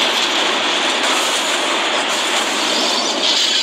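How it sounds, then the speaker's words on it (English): A packed commuter train runs through a city, a loud, steady roar of rolling wagons and rails close by, unbroken for the whole stretch with no voices. "A packed commuter train snakes through the city."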